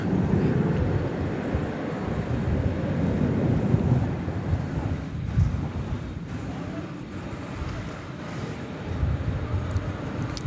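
Steady gusting wind outdoors at DFW Airport at night, a constant low buffeting roar across the microphone with slight swells and no clear pauses.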